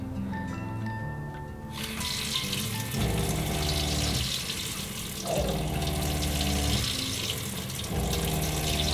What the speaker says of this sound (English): turn the water pump on